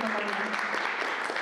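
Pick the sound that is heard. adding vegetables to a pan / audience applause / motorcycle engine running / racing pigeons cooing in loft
audience applause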